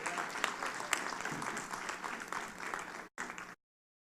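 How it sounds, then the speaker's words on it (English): Mourners applaud at a funeral service for Louie Rankin, a steady dense clapping from a sizable crowd that runs for about three seconds, breaks off briefly, then resumes before cutting out. "Please give them a big round of applause."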